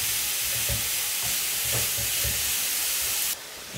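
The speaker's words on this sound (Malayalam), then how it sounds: "ബീട്രൂട്ടും ചേർത്ത് നന്നായിട്ടൊന്ന് ഇളക്കിയെടുക്കാം" Beetroot and browned onion stirred in a pan with a steady frying sizzle throughout, soft scraping strokes repeating every half second or so, close and fairly loud, no voices.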